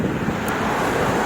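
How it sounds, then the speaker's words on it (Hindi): Strong wind blowing outdoors in Jaipur during stormy weather with light drizzle, a steady, loud, broadband rush that holds level throughout with no voices. "तेज हवाएं हैं"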